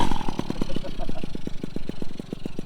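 A Honda Motocompo 49cc two-stroke folding motorcycle with oil injection, its engine running up close in a fast, steady, regular popping pulse, while a voice talks over it.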